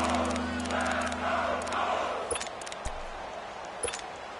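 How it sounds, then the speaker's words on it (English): A virtual stadium crowd in the American football video game Madden roars in a loud, sustained swell during a big third down, then thins out as scattered sharp clicks and thuds break through. "the crowd getting into it as we come up on a big 3rd down"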